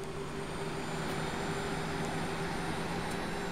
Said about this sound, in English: the engine sounds are insanely good.